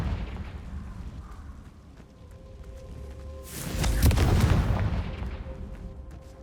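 Confringo blasting spell explosions in the Hogwarts Legacy video game: a loud, broad burst swells in the middle of the stretch and fades out slowly over a steady game rumble.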